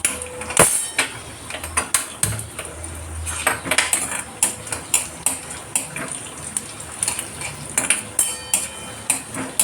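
Peanuts, roasted chana dal and tamarind are dry-roasted in a pan for fresh coconut chutney, with a spoon clanking and scraping against the metal in frequent, irregular strokes, close up and without talk.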